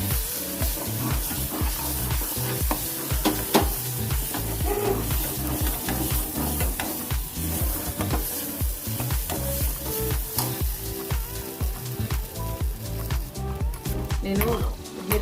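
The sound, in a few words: stuffed brinjal frying in oil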